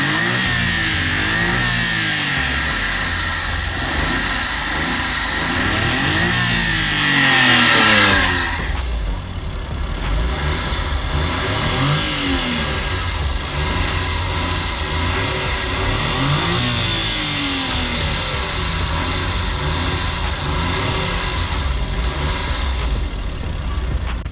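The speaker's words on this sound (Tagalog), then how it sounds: "Yung makina natin is K6A engine, 660cc, 5-speed manual transmission AFI." A K6A 660cc three-cylinder, 12-valve mini van engine with a five-speed manual revs up and down in repeated rising and falling sweeps, loud and close, settling into a steady rough drone with no talk.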